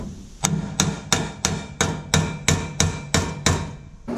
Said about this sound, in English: this sheet metal kind of bent, it's a little bit wavy, so I'm using a hammer to straighten it out as much as I can